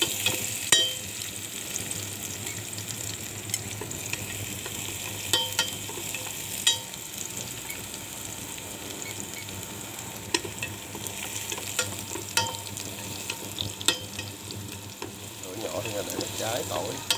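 Garlic frying and being stirred in a pan while cooking fish cakes in tomato sauce, a steady soft sizzle with occasional clinks of the utensil throughout.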